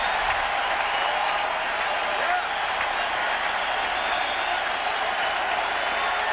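A sellout ballpark crowd at a 2003 playoff game between the Marlins and Giants cheers and applauds in a steady, dense roar that fills the stadium, with a broadcaster talking over it.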